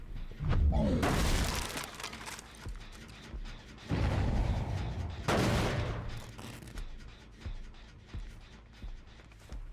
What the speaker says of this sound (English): Everything's exploding.